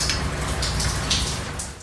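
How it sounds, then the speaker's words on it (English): Heavy water pouring down inside an indoor building stairwell like a waterfall, a constant loud, close rush of splashing with no pauses. "this video recorded by a resident shows rain falling inside a building stairwell"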